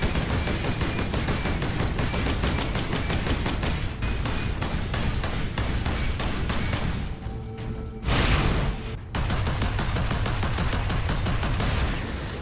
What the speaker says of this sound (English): each of those guns just sounds like they take chunks out of the enemies whenever they hit